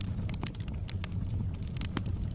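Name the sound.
paper burning with crackling fire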